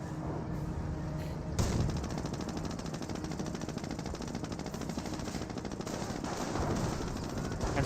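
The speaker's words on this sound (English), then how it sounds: "AT gun firing away over here." Anti-tank gun firing in the World War II strategy game Company of Heroes, amid dense rapid gunfire and machine-gun bursts that rattle on continuously, with a louder blast near the start.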